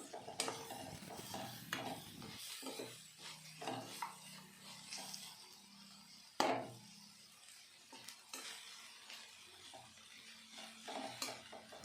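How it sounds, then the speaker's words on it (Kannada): Turmeric powder being stirred in hot oil in a pan for a lemon chitranna breakfast, soft scraping and rubbing of a spoon against the pan with light sizzling, one sharp clack midway, fairly quiet and close. "ಅರಶಿನ ಪುಡಿ ಹಾಕಿದ್ಮೇಲೆ ನೀಟಾಗಿ ತಿರುಗಿಸ್ತಾ ಎಣ್ಣೆಯಲ್ಲಿ ಚೆನ್ನಾಗಿ ಫ್ರೈ ಮಾಡ್ಕೊಬೇಕಾಗುತ್ತೆ."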